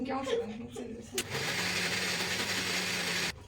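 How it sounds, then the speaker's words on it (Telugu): Kitchen mixer grinder whirring steadily for about two seconds during home cooking of pepper pongal, preceded by someone talking, then cutting off abruptly. "మిక్సీ తిప్పితే సౌండ్ రాదా?"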